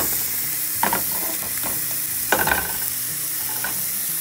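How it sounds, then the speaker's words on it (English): Seasoned trout sears skin side up in hot oil in a pan, giving a steady close sizzle with a few sharper crackling bursts and spatters throughout. "We're starting off with the trout skin side up. We're going to get a nice 3-minute or so sear to one side of the trout"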